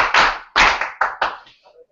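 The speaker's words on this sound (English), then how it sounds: "We clap." About five sharp, separate hand claps from a group, struck in an uneven rhythm close to the listener, each with a short ringing tail, the last ones softer and fading.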